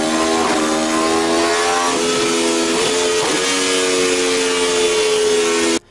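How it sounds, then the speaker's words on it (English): Aprilia RSV4 superbike engine, an earlier edition of the 217-horsepower model, running loud and close with a steady high-pitched howl and a few quick blips in revs, alone without talk. "Let's get a sound check of what the RSV4 sounds like."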